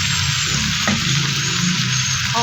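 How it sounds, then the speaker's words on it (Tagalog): Chicken and onion frying in a pan, a loud dense close sizzle that holds steady throughout with a brief clink of a utensil. "Pagka medyo golden brown na, lagyan natin yung sibuyas."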